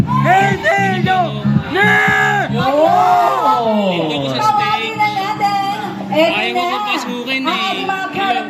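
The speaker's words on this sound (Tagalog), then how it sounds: "kailangan muna nating marinig ang malakas na pag-iingay at sigawan ng mga kasama natin dito sa audience." An audience at a movie premiere night cheers, yells and screams loudly, with voices whooping and shouting over one another close by.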